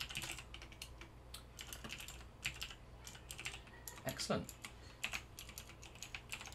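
Rapid, uneven keystrokes on a computer keyboard while writing Java code in the NetBeans editor, close and fairly quiet, with one brief spoken word partway through.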